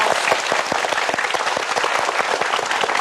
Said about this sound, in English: please give Adam a applause.